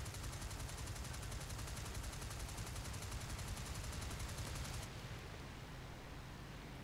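A Lewis machine gun fires from a World War I aircraft in IL-2 Flying Circus, a rapid continuous rattle over loud engine and wind noise, stopping abruptly near five seconds.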